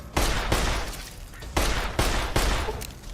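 Gunfire in the video game Fallout: New Vegas, five loud close shots in quick uneven succession, each with a short echoing tail.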